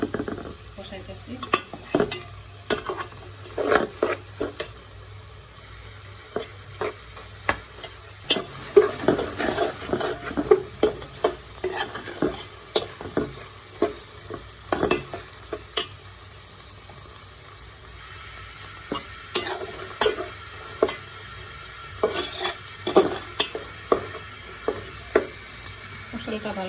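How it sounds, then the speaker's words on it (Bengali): Spice masala for chicken curry stirred and fried in a pan, with repeated scraping strokes of the spoon and a soft sizzle running throughout, scattered clatters of utensils, and occasional speech in between. "মশলাটা ভালো করে কষাইয়ে তারপরে একটু পানি দিলে ভালো হবে।"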